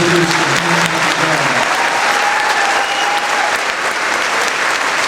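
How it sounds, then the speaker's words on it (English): A crowd claps steadily and loudly throughout, a dense continuous applause with faint tones ringing briefly underneath. "Please give them a nice round of applause."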